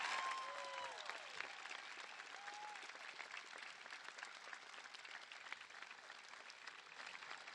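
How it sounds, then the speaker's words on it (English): Audience applause at a high school graduation ceremony, a steady dense patter of many hands that holds for several seconds at a moderate, somewhat distant level, with a faint voice briefly audible near the start. "Let's recognize the students with a round of applause."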